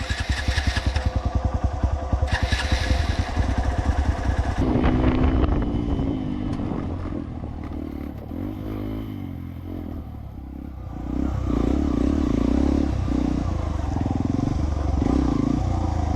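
An off-road motorcycle with a broken throttle cable runs loud and close, its engine chugging in an uneven, pulsing idle, then revving and surging. Wind buffets the microphone across an outdoor valley trail.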